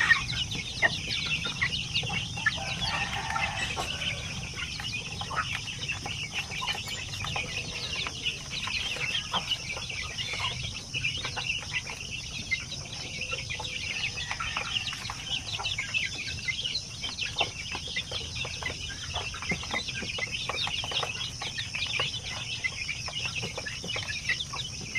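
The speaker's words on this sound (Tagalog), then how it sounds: "So dito marami tayong sampin na sisiw ngayon." Zampen chicks, about twenty crowded together in a pen, peep and cluck continuously at moderate volume, a dense steady chatter with no speech.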